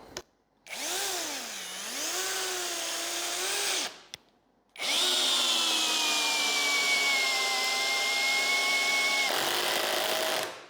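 A Parkside Performance 12V cordless drill drives an 8x140 screw into soft spruce, its motor whining in two long runs. A brief stop comes between them, and near the end the mechanical clutch engages with a ratcheting change in tone. No one speaks.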